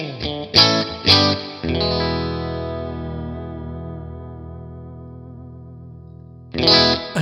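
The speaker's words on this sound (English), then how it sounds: "here is that position 4, the out of phase position on the Stratocaster" Fender Stratocaster electric guitar in the out-of-phase position 4 pickup setting, with a few quick strummed chords followed by one long ringing chord that sustains and slowly decays before another strum at the end, heard alone with a chorus-like shimmer.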